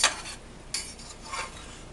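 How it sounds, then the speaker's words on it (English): A utensil scrapes and clinks against a pan in a few short strokes, with faint sizzling underneath and no voices. "Now the same as the other frying pan, I'm just going to mix this up."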